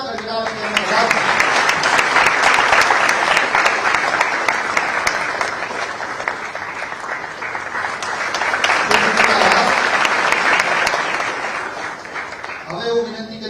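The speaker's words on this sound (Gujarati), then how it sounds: "આપણે સૌ તાળીઓના ગણગડાટ તેમને વધાવીએ" Sustained audience applause at a government appointment letter ceremony for state tax inspectors, a long steady wave of clapping from a large crowd that swells twice and then fades out.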